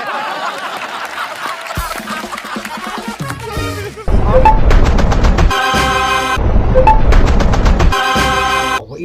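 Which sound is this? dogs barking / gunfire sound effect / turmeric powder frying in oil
gunfire sound effect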